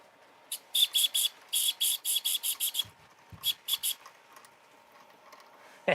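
A Wilesco toy steam engine runs, giving a quick series of sharp, airy hissing puffs in an uneven rhythm, then a pause and a few more bursts, heard close and alone.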